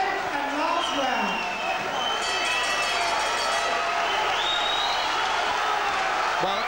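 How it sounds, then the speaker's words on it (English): Sustained crowd applause and cheering at an amateur boxing match between two ten-stone fighters, Jon Honney and Irishman Francis Barrett, a steady roar of clapping and whoops filling the hall throughout. "a very well-deserved round of applause"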